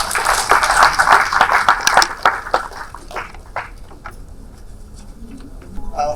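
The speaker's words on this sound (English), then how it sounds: "A round of applause for Mr. Sudhir Sitapati." Audience applause at a keynote address in a hall, moderate clapping for about three seconds that thins into scattered claps and fades.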